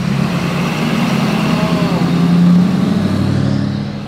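A truck engine runs loud and close with a steady low rumble that swells slightly mid-way before easing off, the noise drowning out conversation.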